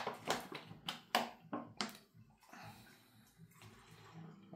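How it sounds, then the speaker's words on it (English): Water splashes and pours into a blender for a smoothie in several short bursts, then continues as a softer, steady trickle, close by. "And now we put some water."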